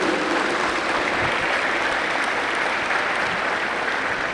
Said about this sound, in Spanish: Vamos a dar un aplauso para la monjita de Tucumán